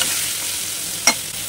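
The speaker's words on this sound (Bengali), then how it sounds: "তো এখন একটু ভাজা ভাজা হোক" Potato pieces coated with salt and turmeric fry in a pan for a meat curry, giving a steady soft sizzle with one brief scrape of stirring near the end.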